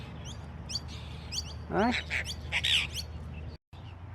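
A bird near a campsite squawks and chirps in quick bursts, with one rising call series in the middle, while someone talks to it.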